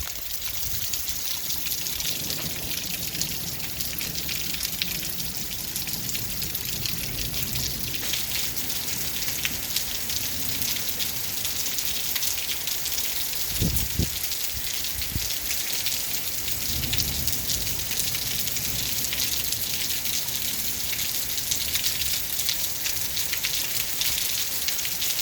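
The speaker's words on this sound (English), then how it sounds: "hailstones. Wow." Hailstones fall in a steady, dense patter that resembles heavy rain on a surface, continuous and fairly even throughout, with a brief knock partway through and no voices.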